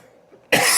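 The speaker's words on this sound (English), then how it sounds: "Ooh, that cough is bad." A single sharp, harsh cough breaks out after a moment of near silence, loud and close.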